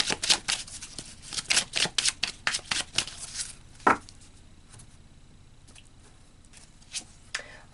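Tarot cards being shuffled in quick, papery riffles and flicks for about four seconds, then a few scattered softer card taps in a quiet room.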